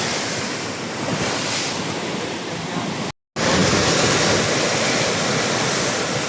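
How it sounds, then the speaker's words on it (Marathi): Heavy, continuous roar of rough surf and wind as waves surge into Bharadkhol village on the coast, loud and unbroken apart from one brief dropout. "पूर्णपणे खवळला आहे समुद्र"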